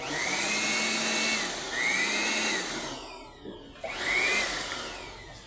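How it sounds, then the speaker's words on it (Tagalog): A loud waste oil burner blower roars steadily nearby with a rising whine that cycles, dipping briefly before surging back to full power. "malakas talaga itong ating burner"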